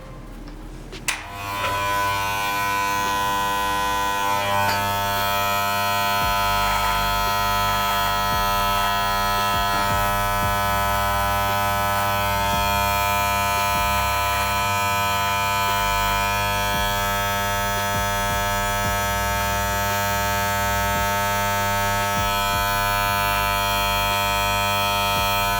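An electric beard trimmer buzzes steadily and loudly while trimming a beard, switching on with a click and then holding a constant close hum with slight changes in pitch as it moves through the hair, with no voices.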